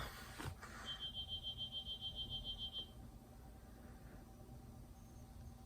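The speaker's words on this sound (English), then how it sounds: "Mail's here. We have a mail alarm." A short electronic chime-like alarm beeps in a rapid repeating pulse for about two seconds, then stops, leaving quiet room noise.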